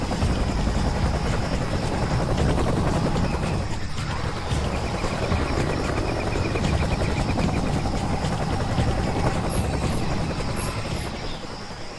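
A helicopter lands near jungle ruins in Raven Squad, its rotor thudding loud and steady throughout, a constant close whirring roar with slight dips near the end.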